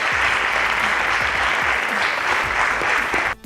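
Loud, dense applause from a large audience at a school quiz competition fills the room, steady throughout before cutting off sharply at the end.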